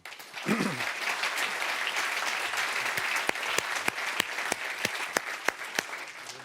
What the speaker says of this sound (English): please give a big round of applause to Andriy Shevchenko